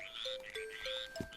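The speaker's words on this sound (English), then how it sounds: "Frogs, get out of the way." Frogs croak in the Link's Awakening video game, a run of warbling, tonal calls repeating one after another at moderate volume, with a couple of soft low thumps near the end.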